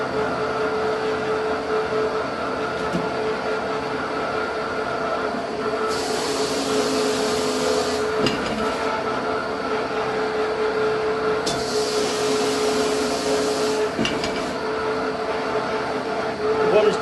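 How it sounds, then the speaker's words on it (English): A leather shaving machine's bladed roller shaves the back of a hide with a loud, steady mechanical drone, and harsher hissing bursts rise twice as the skin passes through. "I'm going to feed it into this bladed roller here."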